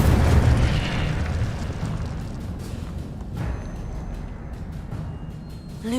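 Fiery spell bursts in the Hogwarts Legacy video game: a heavy booming blast at the start, then a rumbling, crackling tail that fades over several seconds, with smaller pops trailing off.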